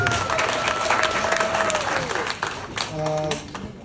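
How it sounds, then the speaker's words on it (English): Applause from a seated audience at a political flag-off event, steady clapping mixed with crowd noise and a tonal whistle-like sound, with brief music-like tones near the end. "You should clap."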